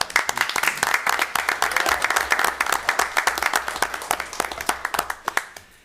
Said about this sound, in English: I think he set me up so he would get the applause.